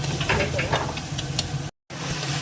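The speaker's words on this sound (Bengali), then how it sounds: "এই মশলাটাকে কষিয়ে নেব" Spice paste of cumin powder, chilli powder and a little sugar frying in oil, a soft close hiss and sizzle with occasional stirring scrapes, briefly cut to silence near the end.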